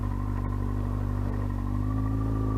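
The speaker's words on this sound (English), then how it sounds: "I'm riding on a 2002 R6, and that's, you know, it's a sport bike" A 2002 Yamaha R6 sport bike runs with a steady, close engine drone and a faint rhythmic pulsing, with no talking.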